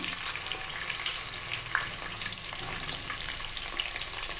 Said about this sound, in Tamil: வெங்காயம் நல்லா வதங்கணும் ஃப்ரெண்ட்ஸ்